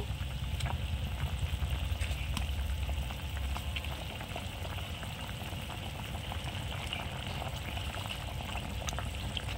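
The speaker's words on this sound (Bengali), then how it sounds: "ঝোলটা ফুটতে শুরু করেছে" Fish curry broth boiling in a cooking pot, with a continuous soft bubbling and popping texture that stays steady and fairly quiet, close up, with no speech.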